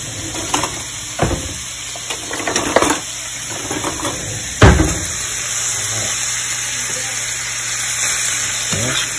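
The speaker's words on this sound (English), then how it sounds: "I'm going to start adding my risotto." Butternut squash and bacon risotto hits a hot pan and sizzles loudly and continuously. A few sharp clinks and scrapes of a utensil stand out along the way, with one heavier knock near the middle.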